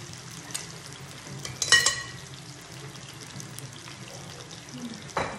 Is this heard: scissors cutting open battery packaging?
no